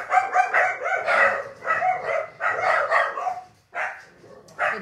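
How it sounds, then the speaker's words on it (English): Several dogs bark in bursts, loud and fairly close, with repeated barks grouped in a ragged rhythm and brief pauses between volleys. "The dogs say hello."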